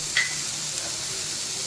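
Onion and tomato sizzling in a pan, a soft steady frying hiss with a brief stirring scrape near the start.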